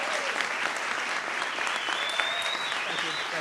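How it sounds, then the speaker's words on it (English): An audience at an awards ceremony for people over seventy gives a steady round of applause for an honoree. The clapping is dense and sustained, with a faint voice and a brief high tone in the background. "Let's give a big round of applause for Joe Cocker."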